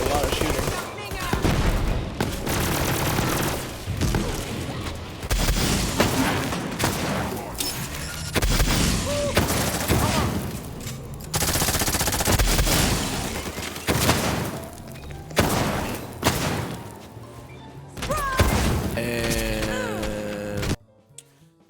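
Borderlands 3 combat with Zane: dense, sustained gunfire from rapid automatic bursts and overlapping shots, broken by brief lulls and heavier impacts, loud and continuous for most of the stretch before cutting off near the end.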